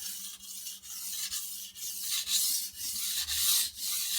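A blade is drawn back and forth across a coarse sharpening stone with light pressure, about ten even rasping strokes in a steady rhythm, close and alone.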